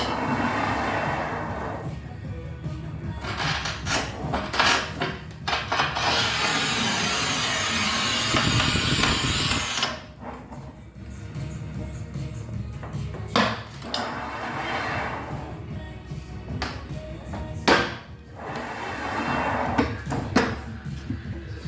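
A hardened porcelain stoneware tile sprayed with WD-40 along the cut line is cut, giving a loud sustained cutting burst of a few seconds between quieter handling knocks and clatter.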